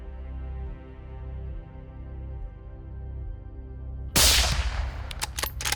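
Rifle shot at a roe buck during a deer stalk in Cornwall: one sharp, loud crack cuts through steady outdoor hum and rumble, followed by a few fainter echoing reports.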